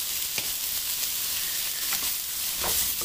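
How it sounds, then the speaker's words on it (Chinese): Butter sizzles and fries over low heat in a pan, a steady crackling hiss throughout with a few brief louder pops, close and alone with no talk. "慢慢炒，把黄油炒化掉。"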